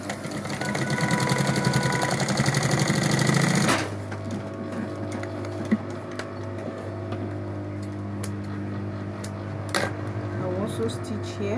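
A sewing machine stitches a fabric pouch with a steady, loud mechanical whir for a few seconds, then stops, leaving a low hum and a few faint clicks.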